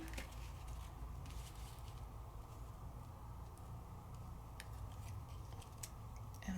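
Scissors snip a few times, sharp quiet cutting clicks scattered over a low, faint background hum, with no voices.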